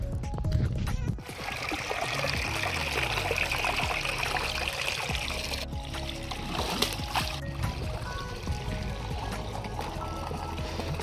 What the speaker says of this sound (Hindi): इनके बीच में से पानी जा रहा है